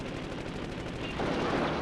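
Bomber turret guns fire in a video game, a dense rapid stream of automatic gunfire rattling continuously and growing slightly louder toward the end, with no pauses.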